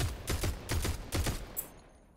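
Gunfire in Fortnite, four quick bursts of automatic shots at a steady rhythm with short gaps, loud and close, tailing off into a brief quieter sound with no talk.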